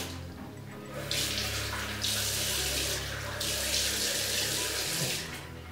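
Water runs steadily from a tap as a face is rinsed after cleansing, with surges of splashing flow rising and falling over several seconds, close and fairly loud with no talk.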